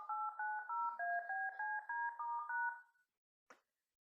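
Touch-tone telephone keypad dialing: a run of about ten steady paired beeps in quick, even succession, clear and close, followed by a short click after a pause.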